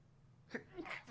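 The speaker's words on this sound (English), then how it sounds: "I'm about to sneeze." A single quick, quiet sneeze with a short intake and sharp burst, close by in a hushed room.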